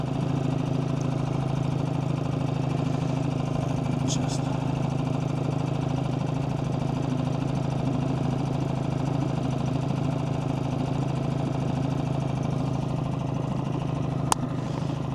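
A Honda petrol outboard motor runs steadily on a boat, a constant droning hum with no change in pitch, heard alone without speech.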